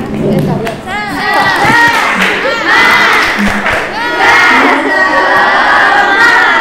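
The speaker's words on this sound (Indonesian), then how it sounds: "Tepuk semangat." A classroom of students performs a rhythmic spirit clap chant during a teaching-practice lesson: loud, massed young voices chant and shout together over steady clapping, filling the whole stretch without pause.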